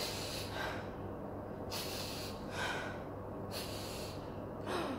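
A storyteller imitates a giant sniffing around a kitchen, with several loud breathy snorts and sniffs in a slow series of bursts, close to the microphone.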